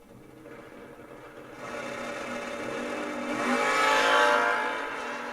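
Two drag cars, a Mustang and a Camaro, launch side by side at a memorial drag race, engines rising from a steady idle into a loud, building roar that peaks and then begins to fade.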